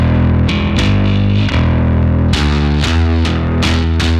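Heavily distorted bass guitar notes with a gritty, clanky tone, played in a steady series of plucked attacks with no voices.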